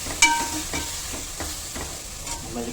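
Onion and tomato sauté in a pan for korma, a soft crackling sizzle broken by several scraping stirs of a spoon, close and fairly quiet.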